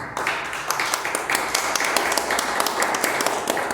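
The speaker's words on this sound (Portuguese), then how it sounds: "louva o Senhor com a salva de palmas" A church congregation claps together in a lively, continuous burst during a worship service, many hands beating at once, loud and close with a slightly rhythmic pulse.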